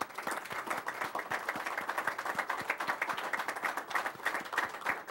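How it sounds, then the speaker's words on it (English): An audience claps in a room, a dense run of many quick overlapping hand claps at moderate volume, steady throughout with no voices over it. "Let's give them a round of applause"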